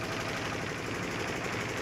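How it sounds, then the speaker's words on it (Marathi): A motor boat engine chugs steadily on a dam reservoir, a dense continuous rumble with a knocking texture, loud and close, with no pauses and no voices. "होडीचा आवाज येत असल्यामुळं आपल्याला मित्रांनो आवाज चांगला येत असेल"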